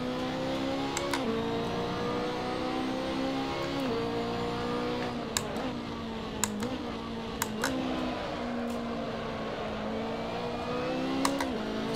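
A BMW race car drifting at Spa Francorchamps, its engine droning steadily with repeated pitch dips and rises as it shifts and slides, with sharp clicks scattered throughout.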